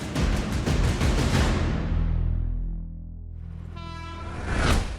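Train passing a level crossing: loud rumbling roar of the cars going by, a brief quieter lull, then a drawn-out horn blast swelling near the end; no speech.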